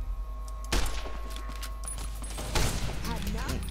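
Gunshots from Fallout: New Vegas, fired in a skirmish with Jackal gang members around Primm: two loud, sharp cracks about two seconds apart over a steady low in-game rumble.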